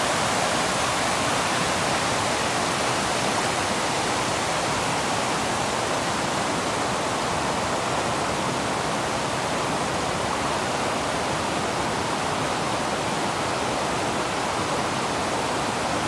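Hunt Fish Falls, a waterfall in the North Carolina mountains, roars as a steady, loud, broadband rush of falling water that stays unbroken for the whole stretch, with no voices.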